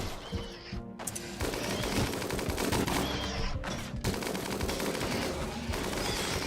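Gunfire from a RimWorld colony battle, rapid bursts of automatic shots rattling almost nonstop with two brief pauses, loud and close.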